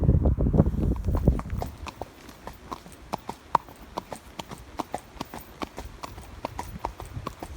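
A ridden horse walking, its hooves striking in a steady clip-clop rhythm, crisp and fairly close, after a short burst of louder rustling at the start.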